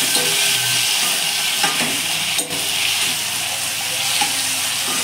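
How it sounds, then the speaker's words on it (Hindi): Chopped tomatoes with ginger garlic paste and chili sizzle loudly in a hot pan for macaroni, a dense steady frying hiss close up with a few brief knocks and scrapes from stirring and no speech. "टमाटर डाल दिए हमने, तो टमाटर को मिक्स करके थोड़ा सा कम आंच में पकाइए इसको"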